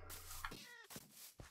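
A Minecraft cat meows a few times in quick succession, short bright mews over steady game background noise, with no talking.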